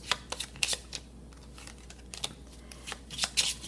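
Tarot cards are shuffled and laid out in quick, soft riffling bursts and taps, close and fairly quiet, with only faint talk in the background.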